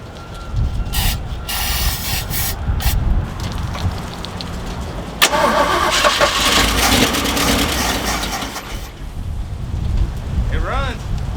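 A Jeep engine on a budget rebuild cranks and catches after carb cleaner is sprayed in, running rough and loud for several seconds amid mechanical clatter, with brief talk over it.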